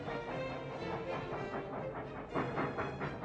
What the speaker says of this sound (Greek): Ο οδοντοτός σιδηρόδρομος στα Καλάβρητα μπορεί να μην εξασφαλίζει γρήγορο ταξίδι